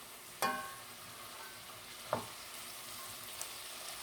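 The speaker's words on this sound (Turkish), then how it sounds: "bu şekilde kuru fasulyelerimizi yağda kızartalım" Dried beans fry in hot oil while being stirred, giving a steady, faint sizzle broken by a couple of sharp scraping clinks of the spoon against the pot.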